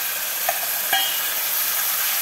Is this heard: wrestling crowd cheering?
no